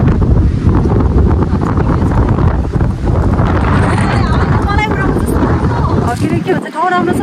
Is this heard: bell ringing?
no